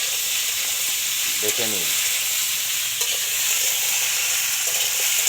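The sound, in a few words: pumpkin greens chorchori being stirred and fried on wood stove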